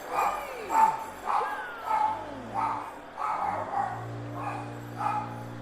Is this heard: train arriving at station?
no